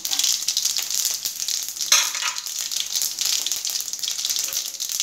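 Curry leaves, cumin, pepper and crushed garlic sizzle in hot oil with mustard seeds and dried red chillies while tomato rasam is being made, giving a steady close crackle that flares briefly as they go in.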